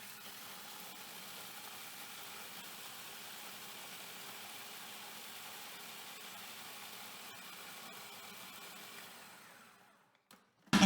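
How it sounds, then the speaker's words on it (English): A food processor on its high setting, fitted with a blade, grinds dessert ingredients into a flour-like texture, giving a steady, fairly quiet motor whir that runs for about ten seconds before stopping, with a couple of brief knocks at the end. "I am going to put this in the food processor fitted with the best blade, and I am going to turn it on high"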